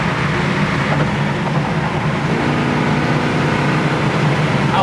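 A 1968 Plymouth Satellite on the move while running through its gears, giving a steady, loud engine and road drone from inside the car, continuous with no talking.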